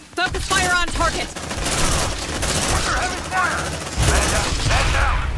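A squad in Aliens: Dark Descent lays down sustained, dense automatic gunfire in repeated loud bursts, with voices shouting over the rattle.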